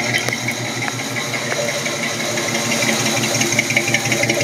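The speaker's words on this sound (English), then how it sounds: "Nice sounding, period correct exhaust." A 1973 Ford Bronco V8 with period-correct dual exhaust idles steadily, deep and throaty, with a low rumbling pulse and a faint rattle, close by and running alone without talk.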